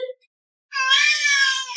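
A cat lets out a short chirp, then after a brief silence a single drawn-out, clear meow, close and fairly loud with no talk.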